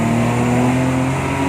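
A BMW E28 528i accelerates hard, its engine note a steady, loud drone with strong low harmonics held throughout, close and alone with no voices.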